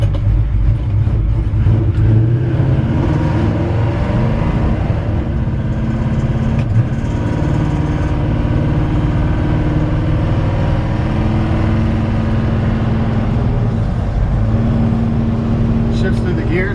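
A 1965 Chevrolet C10 Fleetside pickup drives along with its engine still running cold, a steady close mechanical drone that holds throughout with no break.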